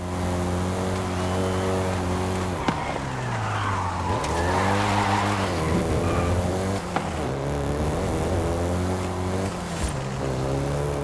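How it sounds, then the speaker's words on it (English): Volkswagen Golf GTI racing in Forza Motorsport 5, a loud continuous engine note rising and falling through gear changes, with tire squeal and skidding mid-way. "the Golf GTI you're driving right now"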